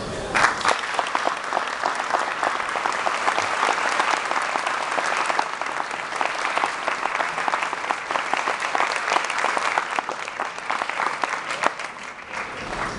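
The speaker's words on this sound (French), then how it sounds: "On va vous demander encore des applaudissements pour Marouane Mohamed" Sustained audience applause at a Syria Charity fundraising gala, a large crowd clapping steadily and loudly for over ten seconds, with faint voices beneath and a gradual slight fade at the close.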